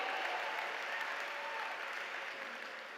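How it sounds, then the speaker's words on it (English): An audience claps steadily for a few seconds at a business academy event, dense and even, easing slightly toward the end. "Give Christy a round of applause, amazing."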